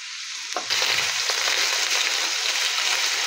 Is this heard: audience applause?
no